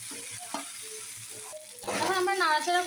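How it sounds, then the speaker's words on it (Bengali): Noodles tossed with coriander leaves in a frying pan, scraping stirs over a light sizzle that swells into a louder, steady frying hiss, with speech under the opening. "ধনিয়া পাতাগুলো দিয়ে নাড়াচাড়া করবো"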